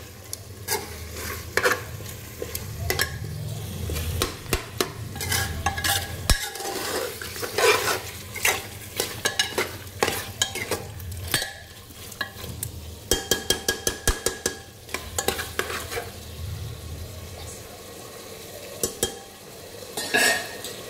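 Masala frying in oil for chicken biryani, stirred steadily with a utensil that scrapes and clinks against the pot, over a low sizzle; the scraping comes in irregular bursts and nobody speaks.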